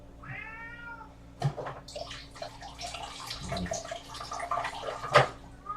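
A pet cat meows for food near a water source, one clear meow early on followed by quieter vocal sounds and drips, close and fairly faint.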